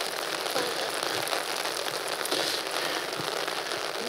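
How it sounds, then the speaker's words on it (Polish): Rain falling outside, a steady soft patter of drops on surfaces with occasional light crackles, continuous and even at moderate volume, no voices. "Chyba pada."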